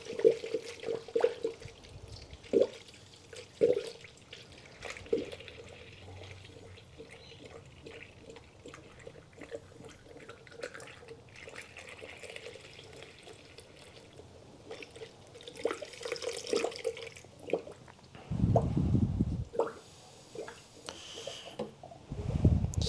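Green premix coolant from Penrite being poured, a 5-litre fill going into a newly built 13B bridgeport rotary engine, heard as faint intermittent liquid trickles and a brief louder gush with bumps and handling noises and no talking.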